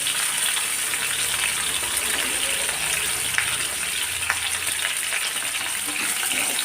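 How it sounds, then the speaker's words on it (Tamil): Thin, long eggplant strips sauté in hot oil for a Tamil kathrikai thokku, giving a steady, close frying sizzle with a bubbly hiss that runs without a break and no voices. "இது எண்ணெயில் கொஞ்சம் நல்லா வதங்கணும்"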